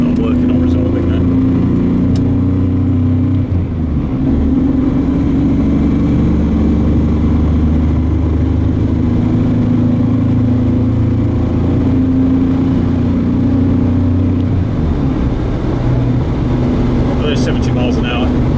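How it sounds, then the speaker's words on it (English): A 1975 Ford Granada GL cruising at road speed, its steady engine drone and low exhaust note continuous throughout with a faint rattle buried in the rumble; no one speaks over it. "There is a slight rattle from the exhaust."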